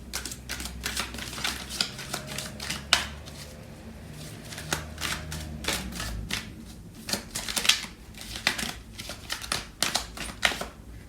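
Tarot cards are shuffled and drawn, a dense run of rapid papery riffles and flicks with sharp card snaps. The sound is close and busy and continues for the whole stretch.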